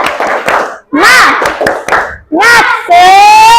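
Children in a classroom clap their hands together in quick bursts during an ice-breaking routine, crisp and close, alternating with an adult and children chanting.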